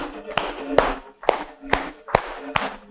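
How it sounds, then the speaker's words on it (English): Claps from a group in an exercise class land in a steady rhythm, about six sharp hits at roughly half-second intervals, mixed with an instructor's voice and background sound. "And clap."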